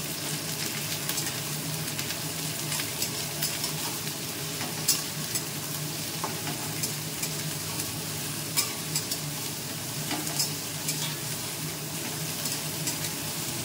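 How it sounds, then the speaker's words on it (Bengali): Sliced onions frying lightly in a pan, not browned, make a continuous dense sizzling hiss with occasional faint clicks, steady and close, with nobody talking. "আর পেঁয়াজটা কিন্তু খুব বেশি ভাজাও হবে না, যে একদম লাল করে ভাজতে হবে তা নয়"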